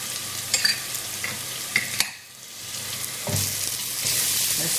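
Ground turmeric, coriander and chili powder fry in hot oil for a Bangladeshi fish curry, a steady close sizzle with a few sharp crackles and spoon scrapes, briefly quieting before the frying swells back louder.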